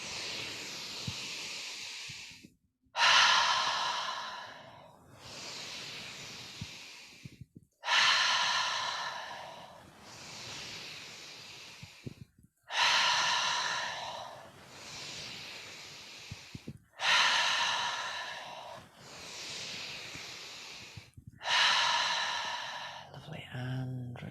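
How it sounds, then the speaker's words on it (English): Deep, audible breaths drawn in and released during a seated yoga session, several slow cycles in a steady rhythm of roughly five seconds each, close and fairly loud, with no talking. "take a deep breath in"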